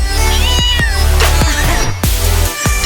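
A cat meows loudly and close up several times in a row, each cry drawn out and wavering, with no talking.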